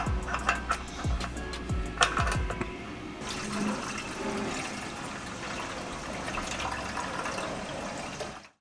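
Water pours and churns while a Lamborghini cooling system is filled with plain water and flushed, a continuous rushing, gurgling stream with sharp knocks and clanks early on, close and steady with no talk.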